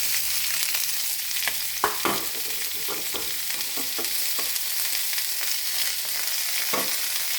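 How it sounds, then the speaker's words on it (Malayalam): Chopped onions dropped into hot oil in a pan, a constant bright sizzle close by with scattered stirring clicks and scrapes and one sharper knock, no voices. "ഇതിലേക്ക് അരിഞ്ഞു വെച്ച സവാള ചേർത്ത് കൊടുക്കാം."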